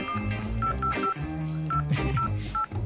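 A phone number is dialed on a phone keypad: a quick, regular run of distinct keypad tones, heard close over faint background music.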